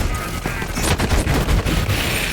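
A video game weapon fires a rapid burst of loud, close shots in a dense rattling volley, mixed with impact effects and no clear speech.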